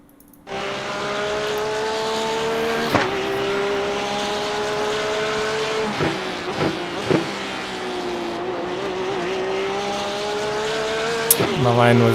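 Porsche 911 GT3R race car lapping Bathurst in the iRacing simulator, a loud, steady engine howl that climbs through the gears with brief dips and sharp shift blips, close and continuous.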